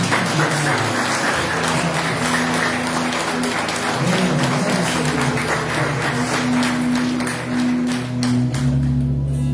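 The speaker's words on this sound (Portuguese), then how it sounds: "E suas palmas glorificam." A church congregation claps together during a worship service, a dense sustained wash of applause with a sustained organ-like tone running beneath it, tapering near the end.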